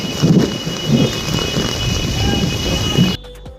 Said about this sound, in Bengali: সে কি বিশাল বৃষ্টি